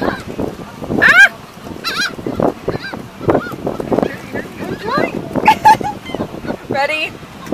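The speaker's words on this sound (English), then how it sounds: "they're all quacking and laughing and going ha ha ha ha" Seagulls at Padre Island calling while being fed, a flock of close, loud, harsh honking cries in rapid overlapping bursts, with wind and surf beneath and people talking.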